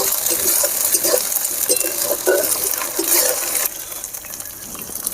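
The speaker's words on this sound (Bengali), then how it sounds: "আদা বাটা, আদা রসুন ভালো করে ভেজে নিতে হবে।" Ginger and garlic paste frying in a pan, a steady close sizzle broken by scraping stirs, with a brighter, hissier patch toward the end.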